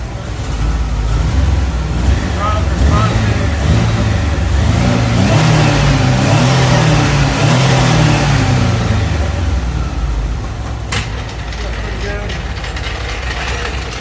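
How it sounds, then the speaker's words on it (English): A Bumblebee project car's engine idling at about 850 rpm with the choke off, a steady loud low rumble that swells briefly in the middle, close to the microphone. "We're idling at 850."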